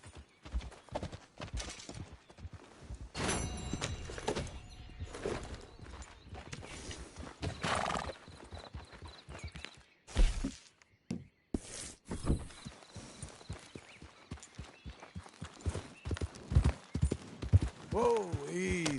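Horse hooves clip-clop in Red Dead Redemption 2 amid gunfire-like bursts, a whinny and a rider's spoken lines, with uneven hoofbeats near and busy throughout the game scene.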